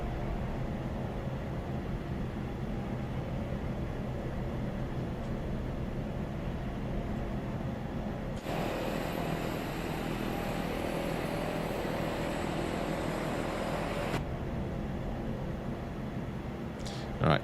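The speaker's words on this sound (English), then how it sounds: "She's a bit of a handful when it comes to taxiing" A Cessna Caravan turboprop taxiing in Microsoft Flight Simulator 2024 produces a continuous droning engine and propeller hum, steady throughout, with a brighter broadband whoosh swelling in midway for several seconds before settling back.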